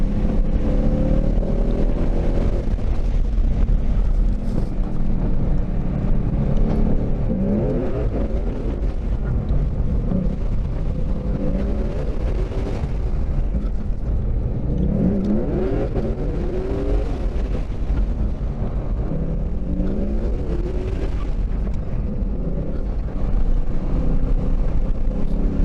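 A 2019 Mustang GT runs a lap on a race track, its engine droning loudly and continuously throughout the recording, rising and falling as it accelerates and shifts, with no talk.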